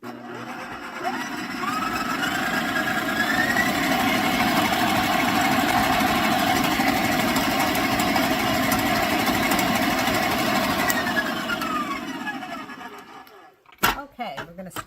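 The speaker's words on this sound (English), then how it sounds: "We're going to mix this up some more with the egg and the vanilla." An electric mixer beats cookie dough with egg and vanilla for jelly bean cookies. A loud, steady motor whir runs for most of the clip, rising and then winding down, with a few knocks as it stops.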